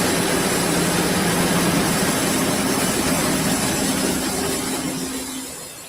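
A small gasoline tractor-type engine runs steadily close by, a constant droning hum with a low tonal drone that slowly fades toward the end, with no talking.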